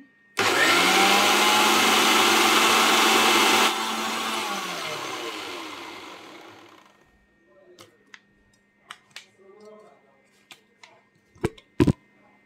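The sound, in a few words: electric blender blending bael fruit lassi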